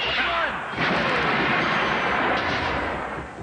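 A grenade blast in a video game lands as a loud, broad roaring burst that holds steady for a few seconds before slowly thinning out.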